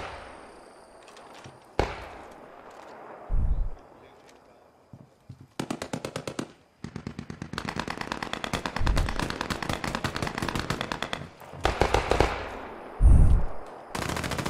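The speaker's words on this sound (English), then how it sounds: "enemy MG on the road southeast" Enemy machine gun fire in a first-person shooter game: rapid bursts of automatic gunfire start and stop repeatedly, with single loud thumps between, near and sharp, several long sustained volleys.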